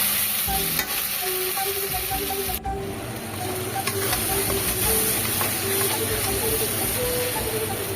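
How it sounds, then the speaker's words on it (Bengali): Spice paste for a chital fish curry sizzles and fries steadily in a pan while being stirred, a continuous loud hiss with small scraping knocks of the spoon, no talking. "মশলাটাকে একটু কষিয়ে নেব"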